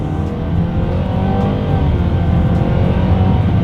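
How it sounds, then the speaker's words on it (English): A 2023 Nissan Sentra accelerating hard in sport driving mode, its engine droning steadily and loudly from inside the cabin, pitch rising slowly as speed builds, with no voices. "let's see how quickly we can get our new 2023 Nissan Sentra here up to speed"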